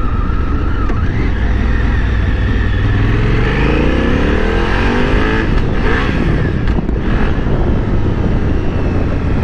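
A 2018 Honda Africa Twin motorcycle on a test ride, its engine loud and close, revving up through rising pitch sweeps with continuous roar and wind rush.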